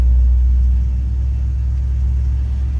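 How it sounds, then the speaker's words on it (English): A 1963 Chevrolet Impala 2-door hardtop's 350 V8 catches and settles into a steady, deep, rumbling idle, loud and close with a strong low throb and no talk. "See how easy that 350 fires up"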